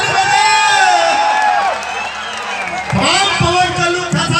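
Crowd at an outdoor stage event at a festival cheers and whoops loudly, with shouting voices and pitched calls throughout; a swell of cheering rises again near the end.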